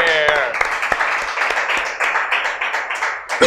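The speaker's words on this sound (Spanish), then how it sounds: "¡Aplauso para el más probable!" Studio audience applause on a Spanish-language game show, a dense steady patter of clapping lasting several seconds, with a few voices and whoops mixed in.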